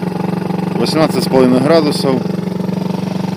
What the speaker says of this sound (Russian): вышел на воду, пока греем двигатель